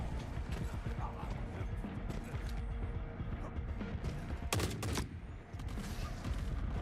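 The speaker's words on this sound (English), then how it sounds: "Ow, snipers." Sniper fire in the video game The Forever Winter, sharp broadband cracks landing around the midpoint over a dense, busy game soundscape of rumbling and clatter.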